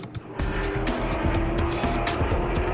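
Formula 3 race cars screaming at full throttle on the Hockenheim Grand Prix circuit in Germany during a British Formula 3 International Series round, loud and continuous with a hint of tyre squeal as the cars pass.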